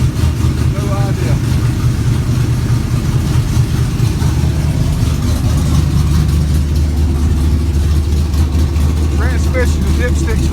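A car engine with a carburetor bog runs steadily at idle, a loud, low, continuous rumble throughout, with a person talking over it.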